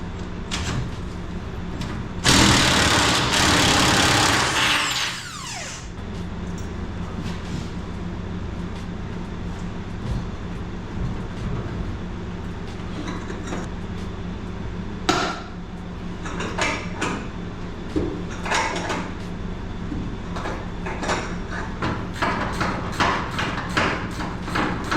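A wrench breaks loose a 3/4 upper control arm bolt during a Mopar E-Body front suspension rebuild, with one loud, harsh mechanical burst lasting a few seconds. Scattered clanks and knocks from the work follow. Nobody speaks.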